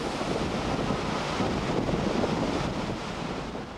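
Strong wind and heavy surf pound the coast at Sidon, where the weather has stopped harbor traffic and kept fishing boats out of the water. A loud, steady roar of gusting wind and crashing sea fills the whole stretch without letup.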